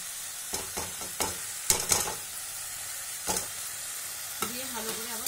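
Tomato stir-fried with turmeric, chilli and cumin powder gives a quiet, soft sizzle broken by repeated spatula scrapes and clacks against the pan at an irregular rhythm.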